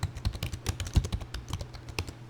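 Quick, uneven keystrokes on a computer keyboard during Android coding work, a close and clear clatter of soft clicks with no voices.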